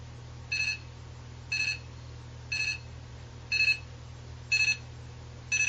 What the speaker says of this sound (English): Oh, there's the alarm.